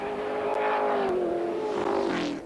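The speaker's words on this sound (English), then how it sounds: "Larry Perkins working the V8 Stang to the cutting" A V8 Ford Mustang race car from 1985 touring-car racing accelerates up Mountain Straight toward the cutting at Bathurst, its engine note climbing loud and steady through the gears, close and continuous with no talk.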